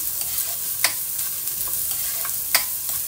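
Ginger sautéing in a pan for adobo chicken liver, giving a steady close sizzle with scattered spatula scrapes and stirring clicks throughout.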